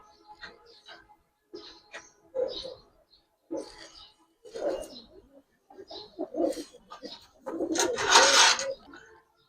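Close, intermittent cooing from pigeons, a female among them, in repeated short bursts, ending with a louder rustling flurry, with faint speech now and then.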